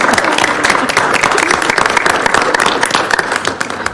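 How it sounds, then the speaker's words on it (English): Loud, sustained applause from a crowd at a county commissioners' business meeting, dense clapping throughout with a few voices mixed in. "How about a big round of applause for Leandra?"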